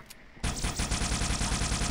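Sustained automatic gunfire in Halo 2 Rebalanced 3.0, a loud continuous rapid burst starting abruptly after a brief quieter moment and holding steady to the end.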